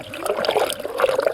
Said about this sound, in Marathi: तर पाणी गुडगुड करून राहिलं